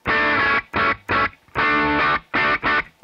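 A Squier Bullet electric guitar plays through a Pure Sky overdrive into a Plexi amp model. It gives six loud, gritty chord stabs in two groups of three, with some held longer and short silences between.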